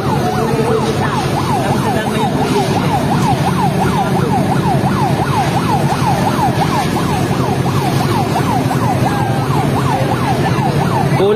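A fire truck siren wails in rapid rising-and-falling sweeps at a house fire in Bagong Nayon, Antipolo, Rizal. It is loud and close, running continuously over engine rumble and background crowd noise.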